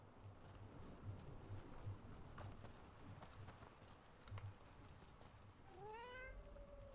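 A cat in the fantasy video game Dragon Age lets out a single rising meow near the end, over a steady game ambience with faint rhythmic hoof-like clopping and no talking.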